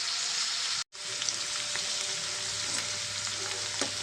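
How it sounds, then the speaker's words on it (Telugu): Ivy gourd pieces fry in oil until golden, a steady, fairly quiet sizzle with a brief break and a few soft clicks from the pan. "వీటిని కొంచెం నూనెలో మనం ఫ్రై చేసుకున్నాం"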